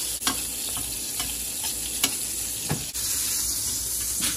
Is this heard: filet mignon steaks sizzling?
yes